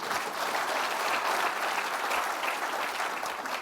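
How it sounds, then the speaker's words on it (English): An audience at a live diabetes event applauds, a dense, even wash of clapping that holds steady throughout at moderate distance, with no talk over it. "Yeah, that's worth a clap there."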